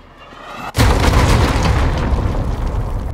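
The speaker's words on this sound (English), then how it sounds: "Enemy cruise missile incoming" A cruise missile explosion in the video game Call of Duty Modern Warfare hits as one sudden, very loud boom, followed by a long roaring, crackling rumble that fills the rest of the moment.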